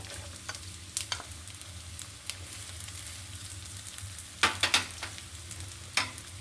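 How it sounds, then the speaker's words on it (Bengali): Chopped onions sizzle in mustard oil in a pan, a steady low frying hiss with occasional sharper scraping stirs near the end, with no talking. "দিয়ে দিচ্ছি সরিষার তেল দিয়ে দিচ্ছি পেঁয়াজ কুচি"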